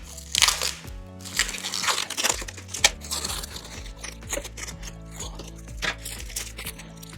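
Protective plastic film is peeled from a new Troy-Bilt 2410 snowblower, making close crinkling, tearing and crackling bursts in an irregular rhythm, with no voices.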